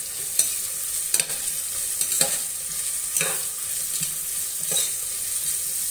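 Onions sautéing over a high flame for tomato rice, a close, even sizzle punctuated by several sharp spoon strikes and scrapes against the pan, without any voices.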